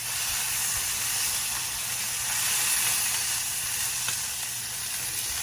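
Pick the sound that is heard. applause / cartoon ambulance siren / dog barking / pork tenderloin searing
pork tenderloin searing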